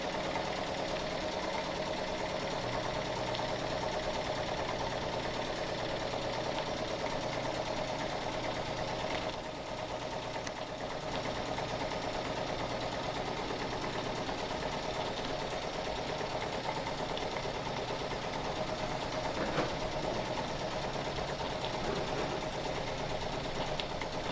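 A Jensen 50 toy steam engine runs steadily at close range, giving a continuous smooth mechanical whir and clatter with an even, unbroken level throughout and no talk.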